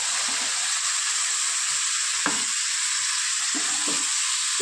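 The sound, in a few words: sautéing fried potato and green banana with spices and water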